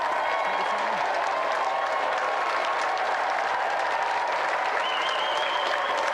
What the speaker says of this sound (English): So let's have another round of applause for the triumphant challenger